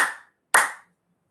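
A single loud hand clap during a yoga session, followed after a short pause by a second sharp clap, each ringing briefly in a quiet room with no talking.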